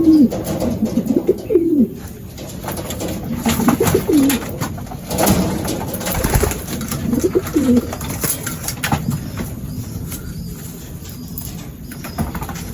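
Young racing pigeons coo repeatedly at close range, overlapping rolling calls with scattered shuffling and faint wing flutters among the flock.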